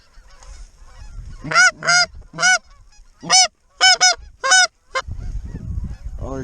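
Speckle-bellied geese flying overhead during a South Dakota blizzard duck hunt give loud, clustered honks, about eight calls in quick groups, over a rough rush of wind.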